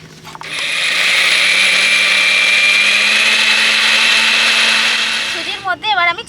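A mixer grinder grinding sugar with cardamom pods whirs loud and steady for about five seconds, then winds down with a wavering whine as it stops.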